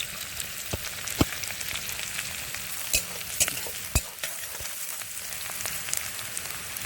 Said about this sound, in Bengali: গোটা ছয়েক কোয়া আর কাঁচা লঙ্কা একটু মেথি দিয়ে দিলাম ফোড়নে